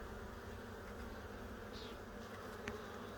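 Honeybee workers in a hive drone in a dense, steady buzz, close and continuous, with a single bee briefly louder as it passes near.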